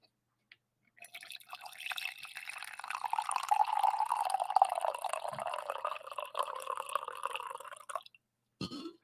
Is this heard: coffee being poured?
yes